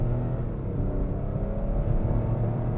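A 2020 Hyundai HB20s with a 1.0 turbo engine and automatic gearbox in drive accelerates up a steep hill, its engine a steady, moderately loud hum and whir from inside the cabin with no voices.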